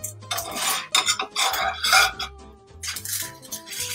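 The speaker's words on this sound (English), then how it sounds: "my French toast is ready to flip" French toast being flipped in a pan, with close metallic scrapes and clinks of a spatula against the pan and soft sizzling between them, with no talking.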